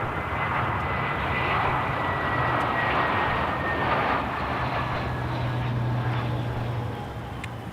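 Two aircraft pass along the fence line at Adelaide Airport, a loud, steady broadband engine roar sustained throughout with a faint whining tone drifting across it, easing slightly toward the end.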